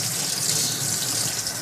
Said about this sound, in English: And I got water coming out,